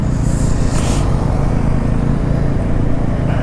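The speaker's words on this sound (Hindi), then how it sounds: "बाइक को बहुत ध्यान से चलाना है, अब ज़्यादा रेव नहीं करना है" Motorcycle engine droning steadily while riding through Ladakh toward Nyoma village, a loud, continuous low rumble mixed with wind buffeting throughout, no voices.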